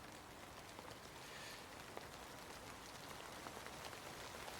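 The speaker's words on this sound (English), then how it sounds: "hopefully you can hear me over the rain" Steady rain falls outside in a continuous, even hiss of drops hitting surfaces, loud and unbroken throughout with no one speaking.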